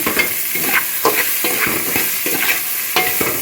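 Sliced onions sautéing in oil in a pan, a loud close sizzle broken by rhythmic scraping stirs every half second or so, with no voices.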